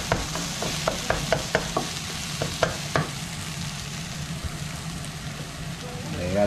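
Onions browning in a frying pan, a steady close sizzle broken by a run of sharp scraping stirs early on, then settling into an even fry.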